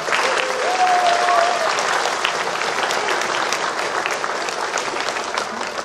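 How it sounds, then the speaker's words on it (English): A school assembly audience at an elementary Veterans Day program gives a conductor a big round of applause, a loud sustained crowd of clapping hands that tapers only slightly toward the end. "Give Heidi a nice big round of applause."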